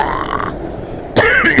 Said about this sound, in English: Don't cough in someone's ear